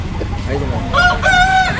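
A rooster crows nearby in two rising bursts over a noisy, busy background at a Sankranti market in Bairedipalli.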